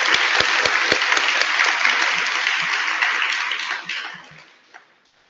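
Audience applause at a national celebration event, a dense crowd clapping with some sharp individual claps standing out, fading away toward the end.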